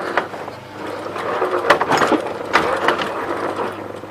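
A stuck engine on a 1945 Farmall H tractor, head removed, being rocked backward by the belt pulley, giving irregular mechanical clunks, ratcheting clicks and scraping knocks at close range over a steady low hum.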